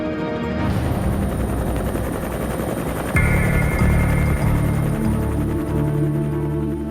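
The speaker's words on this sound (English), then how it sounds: "we're now landing at Waikato Hospital" A rescue helicopter comes in to land at Waikato Hospital with a loud, close rotor thud and turbine whine that grows heavier and deeper partway through.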